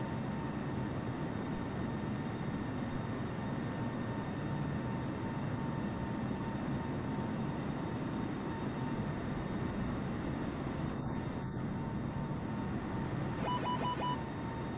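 A Boeing 747 takes off with one engine idle, giving a steady, fairly distant broadband rumble of jet engines that holds evenly for the whole stretch, with no voices.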